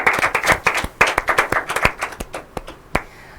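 Audience applause at an inter-collegiate quiz and debate competition, a burst of many hands clapping close and loud that thins out and fades over a few seconds.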